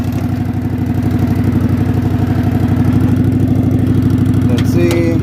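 A tractor engine runs close and loud in a steady, rapid chugging idle that holds a fairly even pitch, with a faint metallic click near the end.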